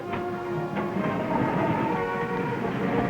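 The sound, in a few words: freight train carrying truck trailers on railroad flat cars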